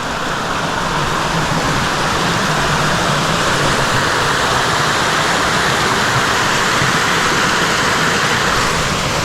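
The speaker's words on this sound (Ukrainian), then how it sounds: "Ні, ну норм такі водоспади." Waterfalls in the Carpathian mountains pour as a loud, continuous broadband rush of falling water, unbroken and close for the whole stretch, with no voices.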